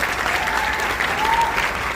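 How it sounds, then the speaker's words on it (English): Sustained, dense applause from an audience at a dental college white coat ceremony honoring a final-year student, steady and moderately loud throughout without a break. "I request you to give a big round of applause to her"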